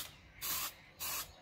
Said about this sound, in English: Make sure you stay a fair bit away when you're spraying.